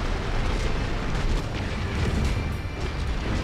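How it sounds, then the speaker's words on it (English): Continuous rumbling artillery explosions and heavy bursts fill a battlefield in the video game MechWarrior 5: Mercenaries, loud and dense throughout with no clear gaps between impacts. "There's artillery literally like everywhere."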